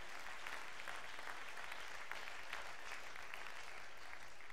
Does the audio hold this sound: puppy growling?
no